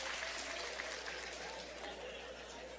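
A church congregation applauding during a sermon, a steady wash of clapping from many people throughout, slightly distant and reverberant, fading a little toward the end.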